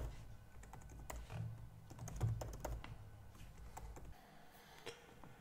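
A password being typed on a computer keyboard: quiet, close key clicks in irregular short bursts with small pauses between, no talking.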